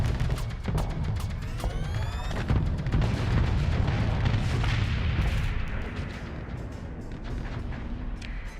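Laser weapons firing in the space game Starsector, a dense run of booming, crackling blasts with a few rising zaps early on, loud and continuous before easing off.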